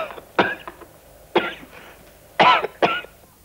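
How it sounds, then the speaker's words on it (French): A person coughs four times in short, sharp bursts, close and fairly loud, with quiet pauses between them and no talking. "Pourquoi tu tousses?"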